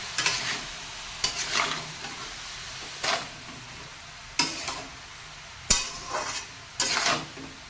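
Java plum pickle with salt is sautéed in a pan, a spoon scraping and stirring in distinct bursts every second or so over a faint, steady sizzle, close by with no voices.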